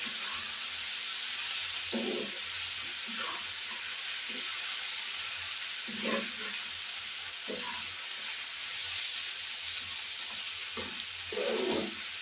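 Small mola fish fry with onion greens in a pan, giving a soft, steady sizzling hiss. Occasional scrapes and clunks of stirring break through it at irregular intervals.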